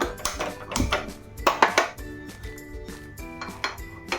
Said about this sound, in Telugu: ముందుగా కళాయి పెట్టుకొని దానిలో స్టవ్ ఆన్ చేసుకొని